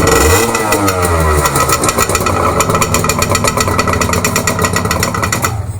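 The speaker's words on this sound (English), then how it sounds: "It is a very loud bike." A 1986 Honda two-stroke motorcycle engine runs loud and close throughout, a rapid, steady buzzing putter with constant revving pulses and no talk over it.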